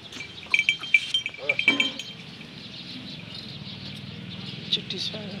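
A Rajanpuri goat at a Pakistani livestock sale bleats in a few short wavering calls early on, alongside bird chirps, followed by quieter background noise and murmuring.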